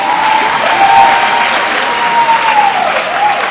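Audience applause at a pharmacist oath and awards ceremony, a loud, sustained burst of many hands clapping in a hall, with a voice briefly audible beneath the clapping.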